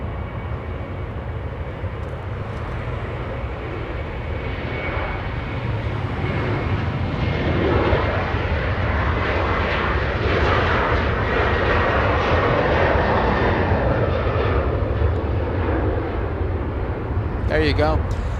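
An aircraft arrives at Los Angeles International Airport, its engine roar sustained and swelling in the middle before easing off, loud and continuous throughout.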